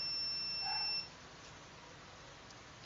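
A homemade intrusion detection system's alarm gives a faint, high electronic buzzer tone for about a second, then cuts off abruptly and leaves only a quiet background hiss.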